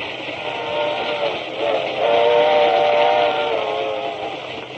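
A steam train whistle gives one sustained, hissing blast that swells in the middle and then tapers off, heard close and loud on its own.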